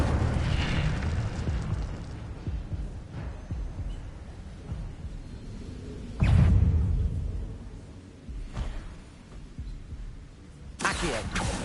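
Spells in Hogwarts Legacy on PS5 hit with explosive bursts, a big low boom midway and sharp blasts near the end, over a rumbling game backdrop with a voice shouting spell names.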